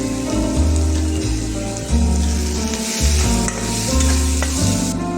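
Ground coconut and biryani spices frying loudly in hot oil for egg biryani masala, a dense continuous sizzle like heavy rain, close and unbroken, with a low pulsing hum underneath and no talking.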